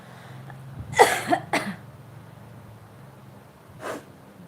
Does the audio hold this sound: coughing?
yes